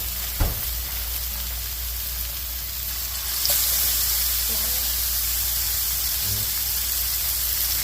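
Honey garlic pork fries over low heat in a pan, giving a steady soft sizzle and hiss that jumps louder partway through, with a brief clatter near the start.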